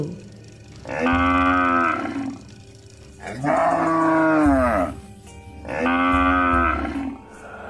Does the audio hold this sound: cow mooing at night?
yes